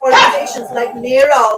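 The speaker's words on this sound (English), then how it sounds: "I apologize for my dogs." Dogs bark sharply twice in a home, close and loud, overlapping a person speaking.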